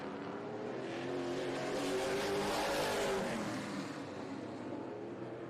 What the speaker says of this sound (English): Cam Caraway in this 21 car